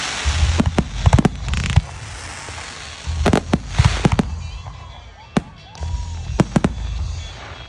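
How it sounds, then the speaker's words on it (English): Fireworks going off at a local park display, launched close by: loud clustered bangs and crackling bursts arrive in three waves with quieter gaps between, no talking over them. "I will insert a little fireworks for you right here."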